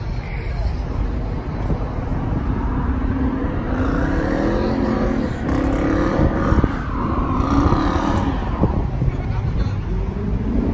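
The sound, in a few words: cars revving and launching at a Mopar car meet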